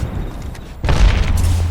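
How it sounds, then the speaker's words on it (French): A thermite grenade is thrown in the video game Apex Legends, landing with a sudden loud boom and a burst of roaring, crackling fire that keeps burning steadily after the impact, following a quieter stretch of game ambience. "J'envoie une grenade thermique"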